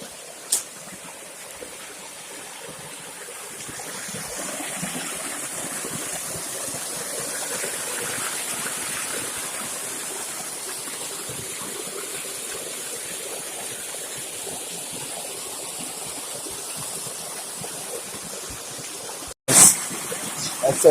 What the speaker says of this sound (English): That's how the beautiful stream look like, you know? Spring water.